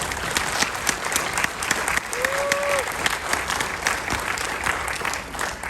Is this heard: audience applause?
yes